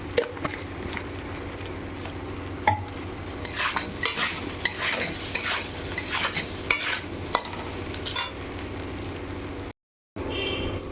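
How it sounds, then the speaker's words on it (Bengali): A spoon stirs a bubbling fish curry with slit green chillies and kochu in a pan, giving repeated close scrapes and clinks over a low sizzle, with a brief silent gap near the end. "এবার আমি এতে 3টে কাঁচা লঙ্কার চিরা দিয়ে দিলাম, দিয়ে আবার একটু নাড়াচাড়া করে নিলাম"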